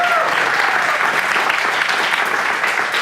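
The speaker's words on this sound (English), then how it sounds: "Round of applause for Jeffrey." An audience at a Melbourne software meetup breaks into dense, continuous applause, loud and sustained throughout.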